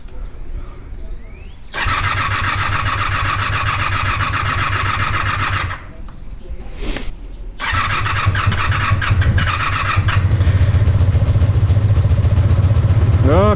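A Honda VF500F Interceptor motorcycle cranks over and fires, then idles loudly up close; the engine stumbles and nearly dies midway before restarting and settling into a steady, slightly rising idle.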